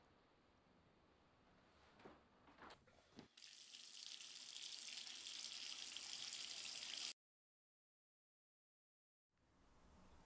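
A tap pours into a bathtub as it fills, a steady, loud rushing stream after a few knocks as the water is turned on. The sound cuts to silence and then returns faintly.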